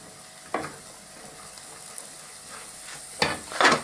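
Onions sweating down in a pan for chilli, a low steady sizzle with a few louder bursts of hissing and stirring scrapes near the start and toward the end, no talking.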